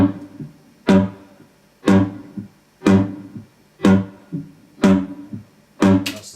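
Snare drum hits routed through effects pedals, six heavily processed crunchy strikes landing roughly once every second, each with a long ringing tonal tail, loud and alone.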